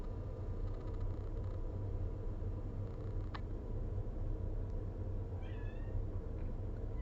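A kitten gives a couple of short, faint meows at a distance over a steady low background hum, one quick squeak first and then a brief rising call near the end.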